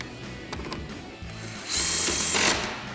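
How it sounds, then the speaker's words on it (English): Ratchet clicks from a 10mm socket driving factory bolts into a new headlight assembly on a RAM 2500 pickup, quick bursts of metallic ticking, close and fairly loud, with a busier stretch of clicking toward the end. "We're using our 10mm socket and our factory hardware to get this back in place."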